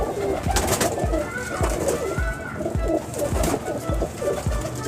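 A pet pigeon hen coos in repeated soft, throaty pulses close by, several calls rolling in a steady rhythm with other birds faintly calling behind.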